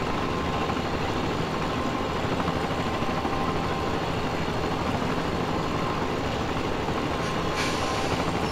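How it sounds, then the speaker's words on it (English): A continuous, dense helicopter rotor roar in Farming Simulator 17 fills the scene at a steady loud level, with no break. "Probably where the helicopter sound's coming from"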